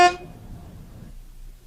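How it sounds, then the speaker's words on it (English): A single short car horn honk sounds loud and close at the very start, then cuts off, leaving a low rumbling vehicle noise that fades away. "Have some fun filling in the missing notes with your own car horn."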